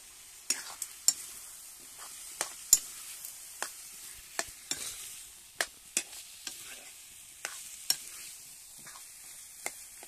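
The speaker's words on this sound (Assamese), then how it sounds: "মাংসটো এক্সট্ৰা ভাজি ল'ব লাগিছিলে এই ভাজি ল'লে বেছি টেষ্ট আহিব" Meat frying in a pan: a soft continuous sizzle punctuated by a dozen sharp scrapes and clacks of the stirring spoon at irregular intervals, close and alone.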